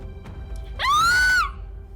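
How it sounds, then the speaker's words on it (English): A woman's high, sustained scream as an audio drama sound effect, bursting in loud and close, holding for about half a second with a rising pitch, then cutting off. "A scream pierced her ears, and she realized it was her own scream"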